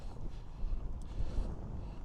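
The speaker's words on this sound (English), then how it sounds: "we got gusts up to 30 miles an hour" Strong gusty wind, gusting to about 30 miles an hour, buffets the microphone at a deer blind, producing a low, uneven rumble that swells and fades in quick surges, with no talking.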